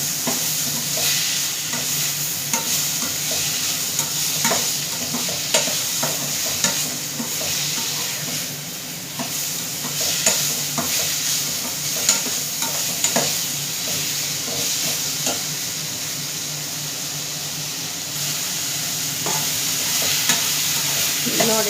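Tomatoes fry in a pan under a constant, dense sizzle while a utensil scrapes and stirs them in irregular strokes throughout.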